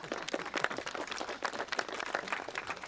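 Small audience applause, a light, scattered patter of clapping hands that runs steadily at moderate volume for a few seconds without speech.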